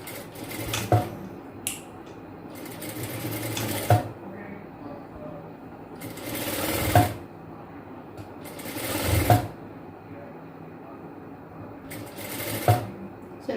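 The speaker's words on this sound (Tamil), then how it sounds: "ஸோ கரெக்டாக வச்சுட்டு தையல் போட்டுக்கலாம்." A sewing machine stitches a blouse in repeated bursts of running motor whir separated by short pauses, close and fairly loud, with a steady background hum between runs.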